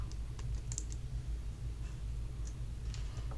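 A computer mouse gives a handful of light, scattered clicks, faint and close, over a low steady room hum with no talk.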